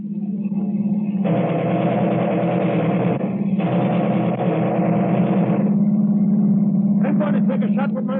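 A car engine in an old-time radio crime drama hums steadily and closely throughout while several actors speak urgently over it.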